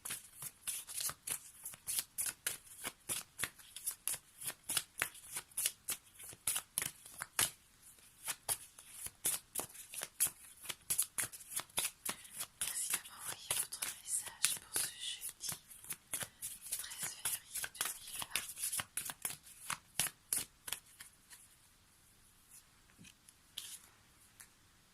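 Oracle cards with guiding-animal images being shuffled by hand, a dense run of crisp riffling flicks and slaps that continues steadily and close up, with no talking.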